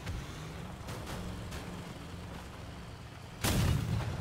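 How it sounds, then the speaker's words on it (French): Cannon fire in the vehicle combat game Crossout: muffled booms over a steady engine rumble, with a louder, heavier blast near the end that keeps rumbling afterward. "Ce canon change tout, hein."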